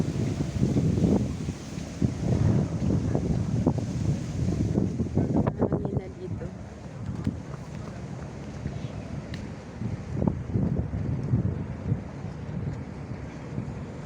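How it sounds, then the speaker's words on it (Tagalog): Gusty wind blowing outside a building in Hong Kong, a steady rumbling buffet on the microphone with stronger gusts early on and a lighter, breezier stretch afterward. "Medyo mahangin-hangin guys."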